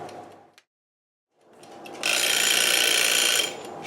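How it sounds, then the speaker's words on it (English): After a brief silence, a loud, high-pitched electronic timer beeps continuously for about a second and a half, then cuts off over faint background noise. "There goes our timer."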